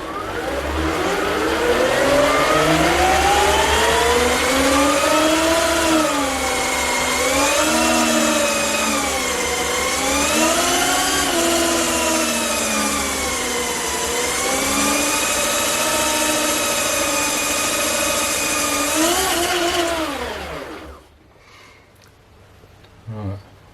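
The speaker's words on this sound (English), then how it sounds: "I'm doing the electric motors first, just to make sure everything works" Electric drive motors of a 1/3 scale V10 RC car spinning up on a dyno, a loud whining tone that sweeps up and down in pitch for about twenty seconds, then stops abruptly.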